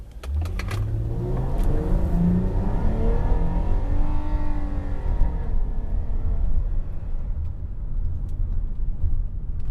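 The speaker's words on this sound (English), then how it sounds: "So we'll just do a quick, 0 to 60." A 2002 Infiniti i35 sedan accelerates hard from 0 to 60, its engine revving up through rising gears in a loud, continuous, close-up roar with no voices.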